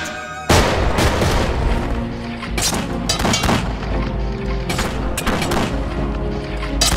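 Gunfire from a firing squad in the Battle Realms strategy video game: a loud initial blast followed by a continuous barrage of booming shots and crackling volleys, with distinct heavier bursts punctuating the dense, rumbling fusillade.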